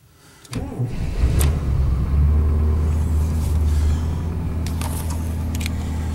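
The cold car engine, fitted with a new cam, cranks and fires after a brief moment of quiet, then settles into a loud, rough, rumbling idle that eases slightly toward the end.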